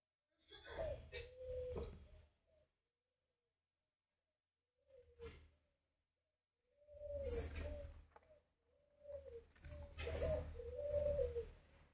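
Spotted doves coo in several soft bursts from pairs of breeding birds kept for a cuckoo-dove hatching setup, with quiet gaps between calls and people talking in the background.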